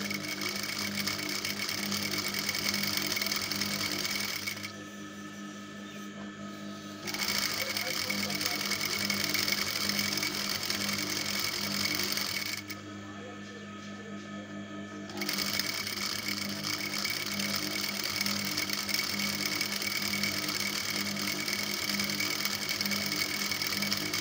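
A sewing machine stitches elastic onto a skirt in fast continuous bursts, with two brief pauses where the whirring stops before resuming, close and steady.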